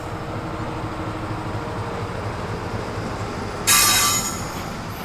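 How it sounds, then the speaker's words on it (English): A Class 70 locomotive hauling a cement freight train sits at signals, a steady low diesel rumble with a faint hum. A sudden bright hiss or squeal bursts in near the end and then fades slightly. "It's an Earls sidings to Walsall on the Class 70 that's just at the signals behind us there."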